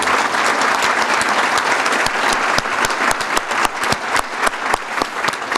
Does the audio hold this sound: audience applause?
yes